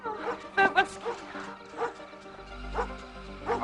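Dog barking in a run of short bow-wow yips, several sharp barks close together early then spaced-out single barks, moderately loud with faint background hum.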